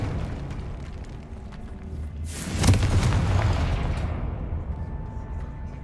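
In Hogwarts Legacy, the Confringo spell bursts into a loud, close explosion partway through, then dies away into a rumbling tail over the game's background noise.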